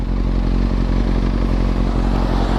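A Kawasaki ZX6R 636 motorcycle fitted with a Yoshimura exhaust runs close and loud, its engine giving a steady, continuous drone with some rattle throughout.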